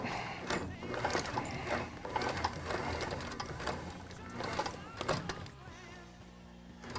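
A sewing machine stitches a leather skate tendon guard in uneven bursts of rapid mechanical chatter. The stitching stops and starts, and there is some handling noise before it goes quiet near the end.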